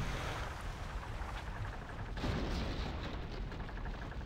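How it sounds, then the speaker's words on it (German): Booming cannon fire from sailing ships in the video game Pirates, a dense continuous roar of shots and rumble filling the whole stretch with no pauses, loud and steady throughout. "die normalen Geschosse machen natürlich dann die Segel auch kaputt auf Dauer"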